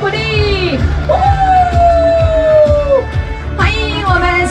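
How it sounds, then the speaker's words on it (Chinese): A crowd at the opening night of the Taipei hot spring festival in Xinbeitou whoops and cheers loudly as the mayor comes on stage, with a voice calling over the noise throughout. "掌声鼓励"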